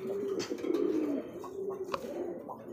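Giant Runt pigeons coo in low, throaty warbles close by on a pigeon farm, one call rolling into the next with a few soft clicks between.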